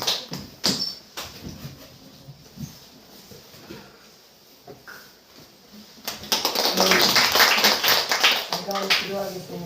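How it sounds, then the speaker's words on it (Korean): At a church testimony service, a congregation welcomes a speaker with applause. A few scattered claps and taps come first, then a dense, sustained round of clapping swells and carries on to the end. "우리 박수로 한번 모셔보도록 하겠습니다"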